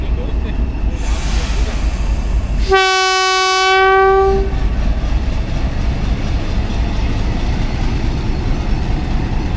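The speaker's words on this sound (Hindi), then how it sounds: "रावलपिंडी पैसेंजर का डिपार्चर हो रहा है हवेलियाँ के लिए टेक्सला जंक्शन रेलवे स्टेशन से" Rawalpindi passenger train departing Taxila junction railway station sounds one loud, sustained horn blast lasting under two seconds, heard close over a rumbling station and engine background.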